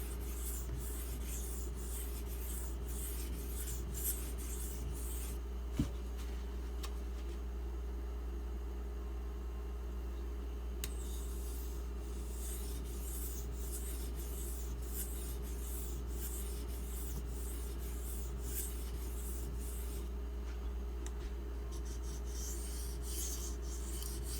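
A Benchmade 770 knife blade is drawn repeatedly across a Spyderco ceramic sharpening stone, giving a soft, close, rhythmic rasping in steady strokes with a few short pauses.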